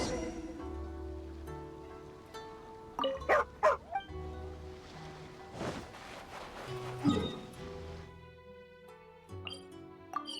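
Dog barking in the video game Genshin Impact, a few sharp barks and yips rising out of steady game music and ambience, fairly close and moderately loud.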